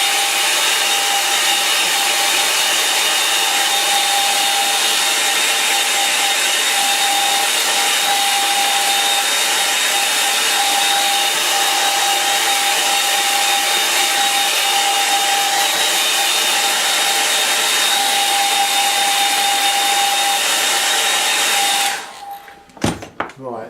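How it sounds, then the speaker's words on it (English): A hairdryer blows steadily and loudly for about twenty seconds, drying a watercolour painting of an evening sky, then cuts off with a few clunks of handling at the end. "I'm going to use the hairdryer again"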